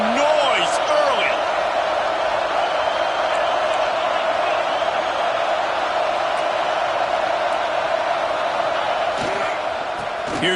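A football stadium crowd roars with energy, a dense continuous wall of cheering and shouts heard from within the stands, steady and loud for the whole stretch.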